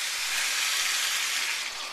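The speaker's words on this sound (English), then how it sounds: "I had that simmering on the other burner" Broth soup base with cooking wine simmering on a stove burner, giving a steady bright hiss and faint bubbling sizzle that holds level for a couple of seconds, no voices.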